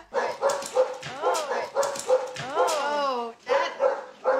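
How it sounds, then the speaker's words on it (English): A boxer dog barks repeatedly near a house deck, loud and close, with sharp yips and whining whimpers between the barks. "Without fail, within 20 feet of their deck, they'll start barking every time."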